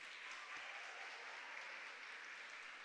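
An audience at a regional oratory contest final in Herrera province claps in a brief, full burst of steady applause that fills the room for a few seconds.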